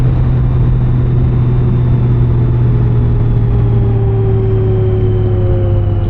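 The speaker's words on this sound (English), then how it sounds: "So it's kind of holding on to that engine braking." A Honda Goldwing DCT motorcycle engine holds a steady drone while engine braking downhill on a road, loud and close with a smooth, gradually shifting tone and wind rush, no talk.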